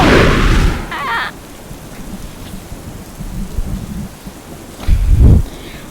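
Rain and rolling thunder from a hurricane-driven storm in South Carolina, a loud rumble at the start and another near the end, with steady rain hiss filling the gaps between.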